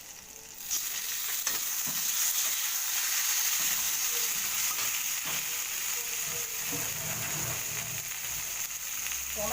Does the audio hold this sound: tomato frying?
yes